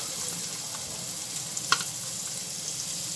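Onion frying in a pan for Saudi kabsa, a steady soft sizzle with a brief clink or stir near the middle, close and moderately quiet with no talk.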